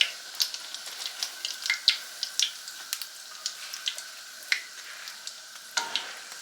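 Biscuit-dough donuts and donut holes frying in hot oil give a steady close sizzle, broken by frequent sharp crackles and pops throughout, with no voices.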